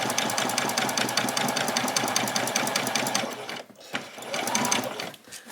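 Sewing machine running a straight stitch on a doll's dress, a loud close rapid mechanical clatter held steady for several seconds, then a brief stop and a shorter burst of stitching.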